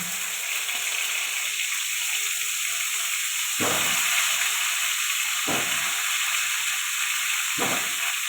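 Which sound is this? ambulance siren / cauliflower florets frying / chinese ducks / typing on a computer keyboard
cauliflower florets frying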